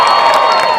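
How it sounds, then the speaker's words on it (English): A comic convention crowd at a Fairly OddParents reunion panel in Los Angeles cheers and applauds loudly, a dense continuous roar of voices and clapping. "if you guys could applaud for the entire cast of Fairly OddParents"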